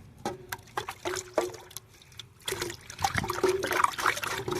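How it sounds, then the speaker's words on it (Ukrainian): Pesticide concentrate, 250 ml of winter spray measured into 10 litres of water, being diluted for an orchard sprayer: irregular splashing and trickling of liquid, close and moderately loud, with bursts of pouring and sloshing and no talk. "І починаємо розводити."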